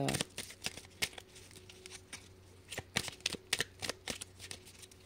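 Tarot cards shuffled by hand in quick, crisp riffling bursts, fairly close but soft, with no talk over them.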